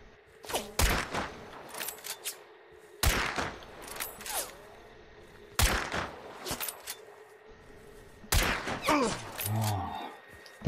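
Gunfire in the video game Hunt: Showdown, with four loud, sharp shots spaced a few seconds apart, each trailing off in a long echo, plus faint thuds and game ambience between them.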